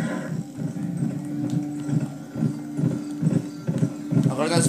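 Horse hooves clip-clop in the western video game GUN, a quick irregular run of close hoofbeats over a game soundtrack, with someone talking over them.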